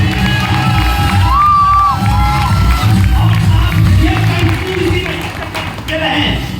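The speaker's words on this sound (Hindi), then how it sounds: "तो क्या लगता है कि इसके लिए एक बार फिर से तालियां होनी चाहिए।" A seminar audience in Gurgaon, Haryana, applauds and cheers loudly, with whoops and raised voices over a dense wash of clapping that holds throughout and dips briefly near the end.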